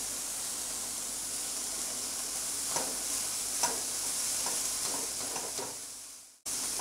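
A chicken marinade with tandoori masala is stirred in a bowl, giving faint, soft scraping taps over a steady hiss before the sound cuts off abruptly.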